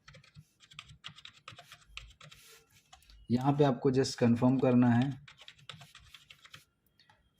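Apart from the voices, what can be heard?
typing a password on a computer keyboard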